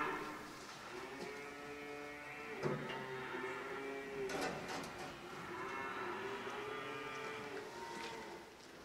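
Cattle moo inside a farmyard cattle shed, several long, low, drawn-out calls overlapping one after another, fairly quiet and slightly distant, with no talking.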